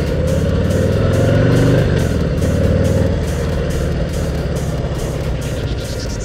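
A 2018 Harley-Davidson Heritage 114 motorcycle on a test ride, its big V-twin engine rumbling loud and close, rising then easing off with steady wind rush.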